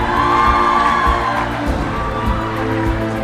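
An audience at a housing ministry speech in front of the president applauds and cheers for the banks, a dense, loud crowd roar with whoops that swells and then settles into sustained clapping.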